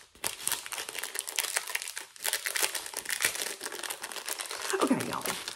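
Small plastic bags from a Temu haul crinkle and rustle as one is opened, a continuous close, busy crackling with bursts of crumpling throughout.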